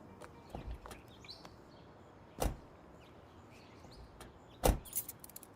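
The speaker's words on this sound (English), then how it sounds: "Let me get the door." A car door in a radio drama sound effect, with two sharp thuds a couple of seconds apart over a soft background hiss and faint small clicks, no voices.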